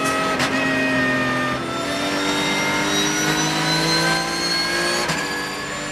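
Race cars, including the #35 Porsche and a Ferrari, accelerate hard around the Dijon-Prenois circuit, their engines screaming loudly and steadily with rising pitch and layered overlapping exhaust notes.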